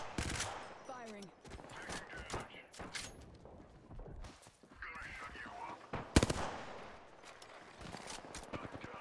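Gunfire in Apex Legends with a Bangalore player, rapid sharp shots in bursts, some close and some distant, while voices speak in between.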